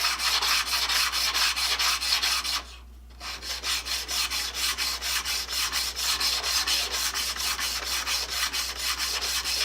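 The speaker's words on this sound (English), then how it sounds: "if I start out with 150 grit on this nice hard steel blade, shines up pretty easy" Hard steel blade of a rebate plane rubbed back and forth on 150 grit abrasive, a loud, even rasping stroke repeated rapidly with one brief pause partway through.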